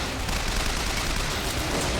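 Turret gunfire in the video game BioShock Infinite rattles in a steady, dense stream of rapid shots, loud and continuous across the whole short stretch.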